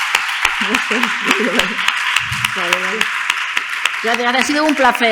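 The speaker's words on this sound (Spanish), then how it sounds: "yo creo que un último aplauso para ti" Audience clapping for a speaker at the close of a gender studies master's lecture, scattered claps running beneath a voice that speaks over most of the applause.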